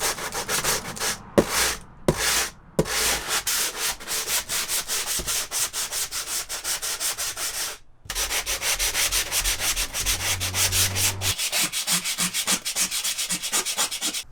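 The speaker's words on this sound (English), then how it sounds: "so I'm just gonna sand it down and hopefully it's ready to prime" Hand sanding of joint compound on the wall of a vintage truck camper, a steady close scratchy rasp of repeated strokes with a few short pauses, continuing alone without talk.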